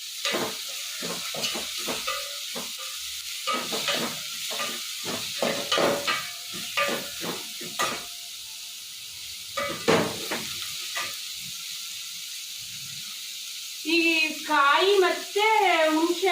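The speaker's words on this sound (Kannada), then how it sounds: "ಎಣ್ಣೆಲಿ ಎಲ್ಲ ಫ್ರೈ ಆಲ್ರೆಡಿ ಉರಿ ಜಾಸ್ತಿ ಇದೆಯಲ್ವಾ ಹಾಗಾಗಿ ಎಲ್ಲ ಫ್ರೈ ಆಗುತ್ತೆ" Coriander leaves frying in hot oil over high heat give a loud sizzle with stirring scrapes in a pan, broken into bursts, and a person talks at the end.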